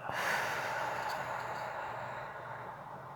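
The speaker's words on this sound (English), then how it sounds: "We'll breathe in and out." Slow, deep breath through the nose and mouth during a guided relaxation routine, one long airy exhale that stays close and fairly soft, with no talking.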